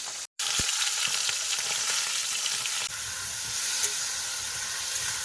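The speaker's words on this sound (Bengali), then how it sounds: "এই যে মাছ ভাজা হচ্ছে এখন এই যে মাছগুলো ভেজেছি আর এখনও কিন্তু কড়ার মধ্যে মাথা দিয়েছি মাথা ভাজা হচ্ছে" Fish pieces and fish heads fry in hot oil in a wok, giving a steady, dense sizzle that runs throughout, broken only by a brief dropout near the start and a soft thump.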